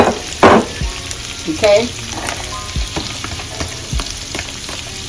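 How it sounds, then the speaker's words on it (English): Vegetables sauté in a hot pan, crackling and sizzling with a few sharp stirring knocks and scrapes, and one brief spoken word over the cooking. "We're going to saute the vegetables."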